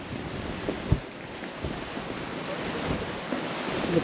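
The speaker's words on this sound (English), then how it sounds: "And this is the Caribbean Sea." Caribbean Sea waves wash below Fort San Juan in San Juan, Puerto Rico, a soft, continuous surf roar heard from a distance, with wind buffeting the microphone and a few faint knocks.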